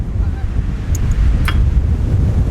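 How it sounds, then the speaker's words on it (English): Strong wind buffets a camper van roof, a steady low roar of gusts pressing on the microphone with a few faint higher clicks mixed in, loud and close throughout. "Yeah, it's really windy."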